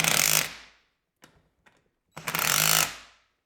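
Impact wrench tightening bolts on a Harbor Freight motorcycle wheel vise, powder coat flaking: two loud, close, rattling bursts about half a second long, separated by a quiet gap with a couple of small clicks.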